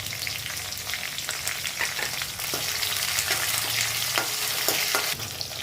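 Chopped green chillies and curry leaves fry in hot oil, giving a dense, close sizzle broken by repeated stirring scrapes and crackling bursts, with no talking.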